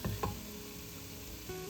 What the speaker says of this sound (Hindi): और बहुत ही खुशबूदार तड़का बनके तैयार हो गया है।